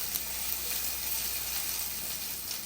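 Steady close sizzle of oil frying sausage while stir-frying for cheesy buldak noodles, with a continuous hiss and a few faint pops.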